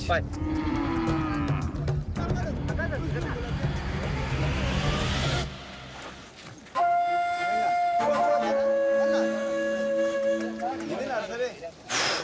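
Cattle mooing in a group in Ethiopia, low calls rising over a busy mix of crowd noise and traffic, followed by a steady tonal hum with scattered voices.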